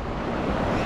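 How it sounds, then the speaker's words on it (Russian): Sea surf washing ashore on a crowded beach in Odesa, a steady broadband rush of breaking waves with wind buffeting the microphone, loud and continuous for under a second. "Волна."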